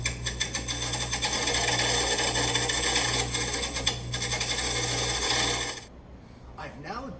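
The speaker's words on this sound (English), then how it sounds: "I will just move back and forth across that wheel, making sure I take off any of those shiny spots." A bench grinder's grinding wheel being dressed with a dressing tool moved back and forth across the face, giving a loud, steady abrasive rasp over the motor hum that cuts off near the end.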